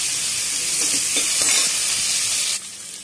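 Onions and curry leaves fry in hot tempering oil for radish pulusu, a steady dense sizzle close by with a few soft stirring clicks, easing slightly near the end.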